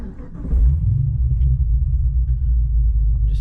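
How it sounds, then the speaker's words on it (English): A GTS car engine cranks and catches, settling into a steady low idle rumble heard up close from the cabin, with no talking. "Now, I'll start the car."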